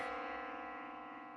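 A single bell chime rings in the horror video game Death Mark 2, sustained and slowly fading over a faint, eerie tone.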